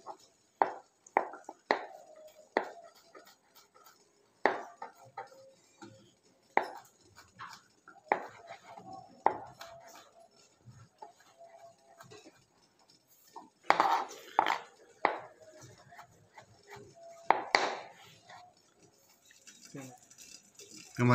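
Knife finely chopping mushroom stems on a cutting board, sharp irregular taps in short bursts spread over about twenty seconds, fairly close, with a voice talking in between.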